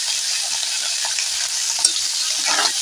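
Snails sizzle and crackle steadily as they are stirred and fried in a pan, a dense, close frying hiss with occasional soft scrapes of the spatula and no talking.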